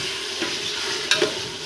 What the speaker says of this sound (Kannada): ನಂತರ ಚಾಪ್ ಮಾಡಿದ ಟೊಮಾಟೊ ಹಣ್ಣನ್ನು ಹಾಕ್ಕೊಳ್ಳಬೇಕು. ಅದನ್ನು ಸಹಿತ ಫ್ರೈ ಮಾಡಿಕೊಳ್ಳಬೇಕು.